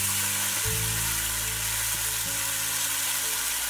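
Scallion and garlic stir-fried in hot oil, tomato sauce added into the wok, giving a loud, steady sizzle and crackle with a few scraping stirs throughout.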